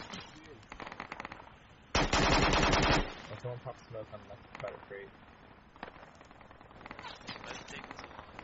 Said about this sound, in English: Got LMG firing from far southeast.